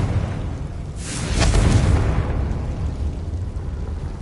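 A Confringo spell explosion in Hogwarts Legacy, a single broad whooshing boom swelling mid-clip over a steady rumbling background, fairly loud, with no talking.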